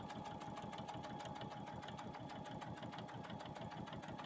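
A sewing machine stitches a strip table runner in a steady, fast, even rhythm of needle strokes, close and continuous, with no talk over it.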